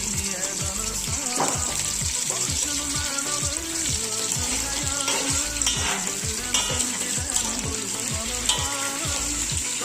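Meat frying in hot oil for Ahıska pilaf gives a loud, steady sizzle with a regular, rhythmic stirring and scraping pulse throughout, and faint voices are possible underneath.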